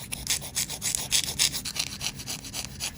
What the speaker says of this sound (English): I'm just kind of filing down these sides a little bit